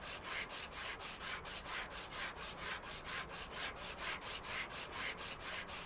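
Sandpaper scrapes rust from a car in a car dealer simulator video game, a quick, even back-and-forth rubbing rhythm of roughly four strokes a second, fairly quiet and steady throughout.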